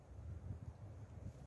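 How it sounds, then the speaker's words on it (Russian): Strong wind buffets the microphone in an open field at the edge of a forest during a fox hunt, a steady low roar with gusty swells and no talk. "Конечно, сегодня очень ветрено, ветер сильный."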